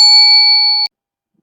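A notification bell sound effect rings out once: a single clean, bright electronic ding that sustains evenly for under a second, then cuts off sharply into silence.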